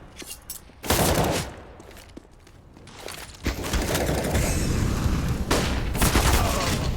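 Rapid gunfire in Counter-Strike on the Overpass map during a professional match, bursts of close shots and automatic fire separated by short lulls, with little talk.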